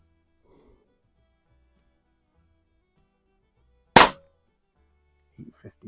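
A single sharp shot from a Pinty Striker .25 caliber bullpup air rifle, a loud, crisp crack with a quick decay against otherwise quiet surroundings, followed by a few faint soft clicks.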